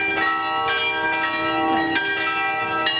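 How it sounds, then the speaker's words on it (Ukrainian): Mourning church bells toll at a memorial for Ukrainian genocide victims, with loud, ringing strikes every second or so whose long humming tones overlap and sustain, and no voices. "Лунають жалобні дзвони."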